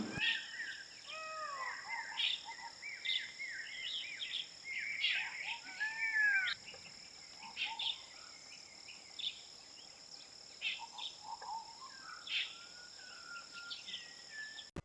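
Jungle birds calling in the Valparai forest where woodpeckers live, with clear whistled and chirping calls scattered over a steady high insect drone, some notes near and others distant; no distinct woodpecker drumming stands out.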